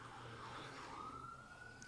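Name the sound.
sirens outside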